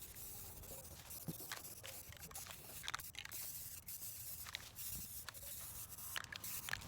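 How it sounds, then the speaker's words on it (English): Short bursts of hissing spray from a Rust-Oleum Apple Red spray paint can, repeated in quick pulses with faint scraping and rubbing between them. "I painted it with Rust-Oleum Apple Red spray paint."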